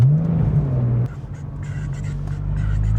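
An old Porsche 911 accelerates onto a highway, its engine a loud, steady close drone that dips briefly and then resumes pulling, with a faint whir over it.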